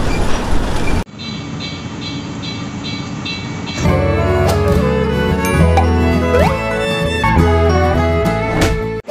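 An old train rumbles and clatters along the rails from Tenom, Sabah, a noisy mechanical roar with metallic squeaks and clanks, loud and close throughout.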